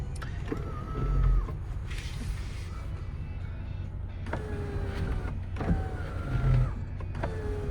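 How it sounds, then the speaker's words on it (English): The power sunroof motor on a Toyota Land Cruiser 80 series whirs through two separate runs, each rising and falling in pitch with a faint clunk at the ends. It is heard close up inside the cabin. "Power sunroof."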